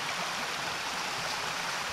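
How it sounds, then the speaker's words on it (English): A creek runs along the northern border of a rural property, giving a close, steady rushing and babbling flow with no talking. "This creek runs the entire northern border of this property."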